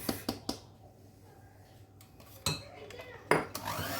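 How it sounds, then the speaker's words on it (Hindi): Chocolate fudge cake batter being folded with a spatula in a bowl: a few soft scrapes and light clinks against the bowl, quiet and close. "जस्ट हम इसको स्लाइड से मिक्स करेंगे, बहुत ज़्यादा हम बीट नहीं कर रहे हैं।"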